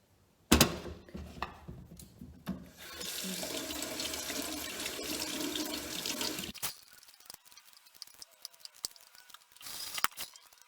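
Warm tap water runs into a kitchen sink while potatoes are rinsed for gnocchi, a loud splashing rush for a few seconds that then stops, followed by quieter drips and small knocks.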